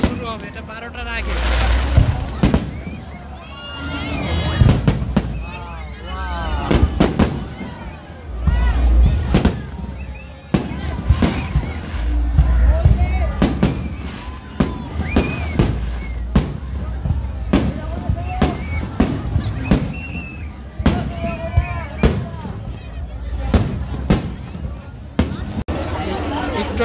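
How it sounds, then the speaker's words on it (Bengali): New Year fireworks test before midnight at the Mall of Asia bursts in a long run of sharp cracks and booms, some far and some louder, with crowd chatter and voices throughout. "একটু আগে যা হইলো ফায়ার ওয়ার্ক, এটা হচ্ছে ট্রেইলার।"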